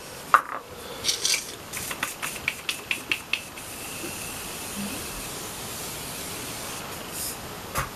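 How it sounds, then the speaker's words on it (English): A face mist bottle gives a few quick, close spritzes in a short rhythmic burst, followed by a faint steady hiss and a quiet room, with no talking. "I'm gonna give myself a little spritz."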